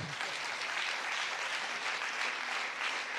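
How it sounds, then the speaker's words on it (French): A festival closing session's audience applauds as the lecturer climbs onto the stage: a dense, even wash of clapping from a full hall, moderately loud and continuous, with no speech over it. "Christian, je vous prie de monter sur scène sous les applaudissements de la salle."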